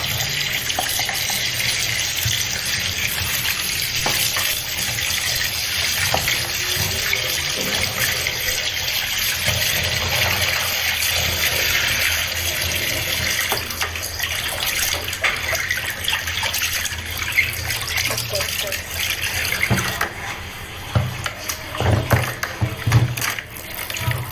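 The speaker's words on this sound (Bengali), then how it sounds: "এখানে পাবদা মাছ আর ট্যাংরা মাছ নিয়ে এসেছে আমি এগুলো কেটে ধুয়ে পরিষ্কার করে নেব" Water runs steadily from a tap while pabda and tangra fish are washed after cutting, a continuous gushing splash with shifting spatter that stays close and fairly loud throughout, with no talking.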